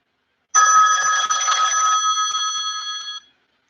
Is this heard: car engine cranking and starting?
no